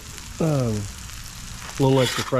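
Onions fry in chorizo grease with a soft, continuous sizzle, while short voiced sounds break in over the top.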